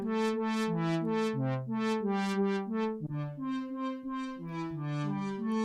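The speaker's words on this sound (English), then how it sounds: "this is super dry OBXD being played by Riffer, and I'll employ the reverb" An OBXD software synth, played by the Riffer sequencer app with reverb added, runs through a steady melodic pattern of sustained, overlapping notes with bright harmonics. The notes are clear and continuous, with no voices.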